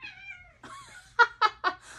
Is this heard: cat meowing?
yes